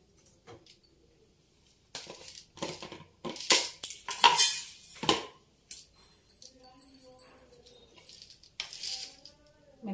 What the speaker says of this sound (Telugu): కొంచెం ఆయిల్ వేసుకొని పోపు పెట్టుకుందాం.